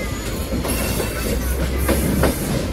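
The Diva–Ratnagiri 50103 passenger train rumbles loudly along the Konkan Railway, with a steady roar and rhythmic clickety-clack wheel beats heard from on board.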